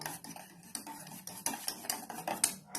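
A utensil stirs wheat flour in a pan over a low flame, making repeated scraping strokes against the metal. Close, uneven clinks mark the rhythm of the stirring.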